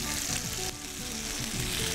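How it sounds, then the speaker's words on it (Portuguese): Dense, loud sizzling of a sauce sautéing in a pan with bacon and olive oil, a continuous crackling fry with no voices. "nós vamos refogar esse molho que já está"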